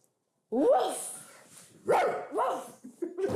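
A person imitates a dog, producing several loud yapping bark-like calls with rising and falling pitch, spaced unevenly after a moment of silence.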